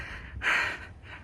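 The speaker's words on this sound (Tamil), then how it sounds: "ரொம்பவே மூச்சு வாங்குது மக்களே." Heavy breathing of someone trekking uphill to a hilltop temple, one strong close exhale between quieter breaths, faint and near.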